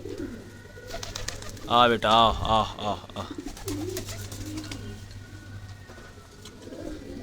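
Pigeons coo in soft, rolling bursts nearby, while someone speaks briefly and quiet background noise continues.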